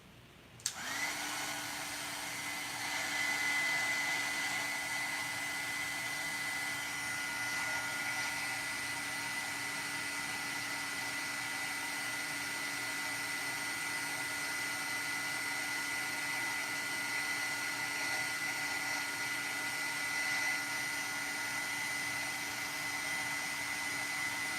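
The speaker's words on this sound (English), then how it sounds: "let me go ahead and just heat set this." A heat tool heat-setting embossing ink switches on with a click, then blows a steady, close whine and rushing airflow for the rest of the stretch, with no talking.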